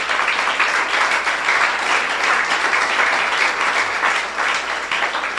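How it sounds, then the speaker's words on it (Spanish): A church congregation applauding together, a sustained dense clapping that stays fairly loud and even across the whole stretch, with no clear speech over it. "Puedes aplaudir, es para Cristo."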